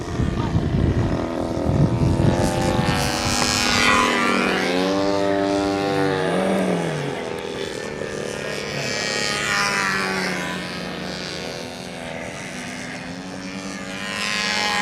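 A giant Ringmaster control-line model plane, likely carrying a roughly 90-size engine, drones loudly and steadily at a flying circle, its pitch rising and falling as it circles past.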